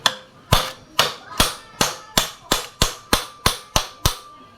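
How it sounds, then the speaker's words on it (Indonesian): Bolts being knocked loose on a scooter's CVT clutch lining: a steady run of about twelve sharp metallic strikes at an even rhythm, close and loud, each ringing out briefly. "Selanjutnya akan kita lepaskan baut pengikat kampas gandanya ya."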